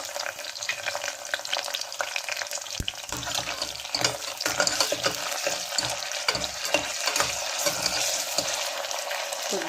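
Chopped ridge gourd fries with ginger garlic paste in a pan, giving a constant sizzle. Scraping stirs and clatters of a utensil against the pan repeat throughout, close up and without talk.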